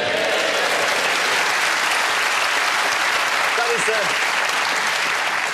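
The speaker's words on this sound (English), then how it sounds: "That's the first time I've had my ignorance clapped." A studio audience at a Just a Minute television panel show breaks into warm applause, a dense, steady wash of clapping that holds at full strength for the whole stretch without any talk rising above it.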